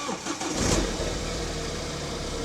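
A used car's normal engine cranks and catches, then settles into a steady mid-pitched idle that carries on close by, with no voices over it.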